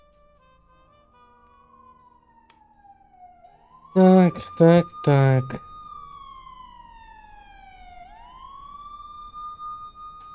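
A wailing emergency siren in the Blacksad video game, sweeping down and up in long slow glides that carry on steadily, briefly covered by a few loud bursts of speech partway through.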